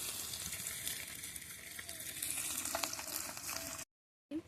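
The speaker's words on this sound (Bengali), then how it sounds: "মাছ ভাজা বসিয়েছি" Small bele fish fry in a pan of hot oil with a soft, steady crackling sizzle. The sound is faint and continuous, and it cuts out briefly near the end.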